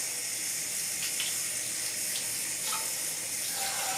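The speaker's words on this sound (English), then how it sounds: "Get some cold water going here." Cold water runs steadily from a tap into a sink, a constant hissing splash with no other sounds.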